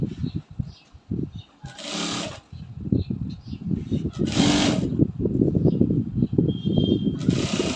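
A sewing machine stitches around the V-shaped neckline of a bubu kaftan, running in a few short bursts with pauses and shuffling of fabric between them.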